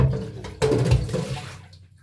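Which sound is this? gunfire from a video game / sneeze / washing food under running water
washing food under running water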